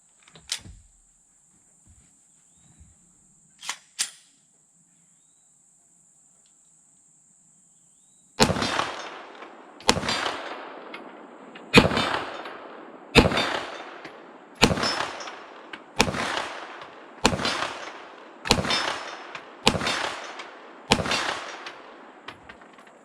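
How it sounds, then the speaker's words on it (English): A Glock 34 pistol fired at a target around 30 to 35 yards away gives about eight loud, sharp shots in a fairly even rhythm. A few faint clicks and a tone come before the first shot. "Take some shots with the Glock 34."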